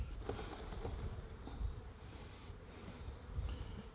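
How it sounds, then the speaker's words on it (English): Honey bees buzz steadily around an open hive during a mid-July inspection, forming a dense, continuous drone with wind noise mixed in and no talking. "Should get enough bees off here."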